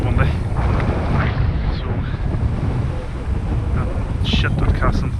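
Strong wind gusts at Sessiagh Lake in Portnablagh, County Donegal, a constant loud low rumble buffeting the microphone, with lapping water and a brief spoken word under it.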